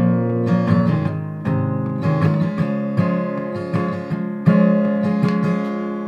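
Acoustic guitar strummed through the chords of a song, a steady, full-bodied rhythm of repeated strokes with chord changes every second or so, played close and alone.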